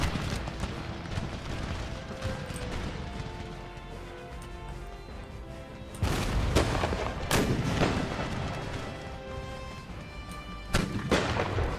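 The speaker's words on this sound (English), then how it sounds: "Watch the mine go off once they hit it" A mine detonates in the Empire: Total War battle, a sharp booming blast at about six seconds rising over constant musket and artillery fire, followed by more heavy crashes through the rest of the battle.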